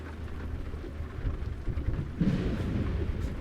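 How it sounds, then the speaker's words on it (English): A thunderstorm inside a driving video game, with a steady wash of rain and a low rumble of thunder swelling toward the end, heard alone without talk. "Oh, we got a thunderstorm going on in game."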